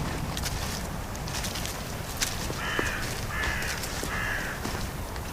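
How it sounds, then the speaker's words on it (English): A large crow caws three times in a forest, Abbots Wood in Sussex, each call harsh and clearly spaced over a steady wash of wind and faint background noise. "We're watched by a crow the size of a Jack Russell."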